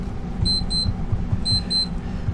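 A timer alarm goes off with two pairs of sharp, high electronic beeps, loud and close over a low steady background hum, with no one speaking.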